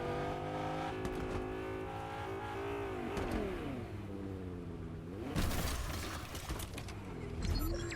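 A car in the video game Fortnite drives along with an engine whose pitch rises, dips and climbs again as it revs and shifts. A brief crash or impact breaks in partway through, all at a moderate level.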